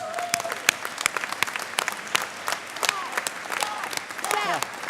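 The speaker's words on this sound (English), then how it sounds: "I want you to give them a huge round of applause" Applause for union staff fills a hall during an executive director's speech, dense clapping from a large audience with voices and a few shouts rising through it, steady and fairly loud.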